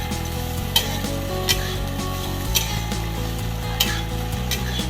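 Spiny gourd (kakrol) pieces frying in a pan, a steady sizzle broken by a few sharp scraping stirs, close and alone with no voices.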